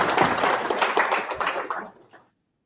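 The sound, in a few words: applause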